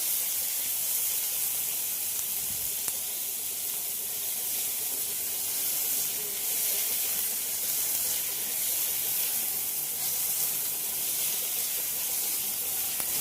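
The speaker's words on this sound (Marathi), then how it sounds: "कांदा चांगला परतून घ्यायचा." Chopped onions fry in a pan for a Malvani chicken curry, giving a steady, continuous sizzling hiss that holds at an even level throughout, with no voices.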